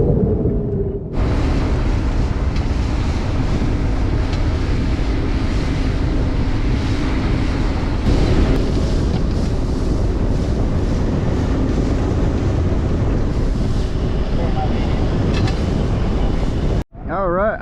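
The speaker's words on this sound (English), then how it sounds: "it got breezy. It definitely picked up, and it picked up a lot more than they said it would" Strong wind roars across a fishing boat out on the water at a reef during summer flounder fishing, a loud, steady buffeting rush that lasts about sixteen seconds before cutting off abruptly.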